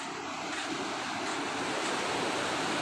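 Flash flood water in Mae Hong Son, Thailand, runs in a swollen torrent, a loud continuous broadband roar and rush with no breaks, heard close with wind buffeting the microphone.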